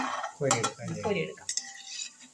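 Banana bondas sizzle in hot oil on medium flame as they are scooped out, with soft sizzling broken by a few quick metallic scraping and clinking sounds from the ladle against the pan.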